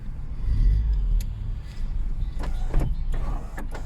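A small electric tilt motor moves the steering wheel of a worn £600 used car, whirring in two short bursts close by with a brief pause between them.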